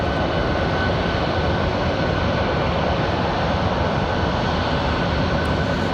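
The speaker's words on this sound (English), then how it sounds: "So this is Delta 1518 coming in from Atlanta." Delta flight 1518 from Atlanta landing at Raleigh-Durham International, a loud, steady jet engine roar that holds at full strength throughout with no talk.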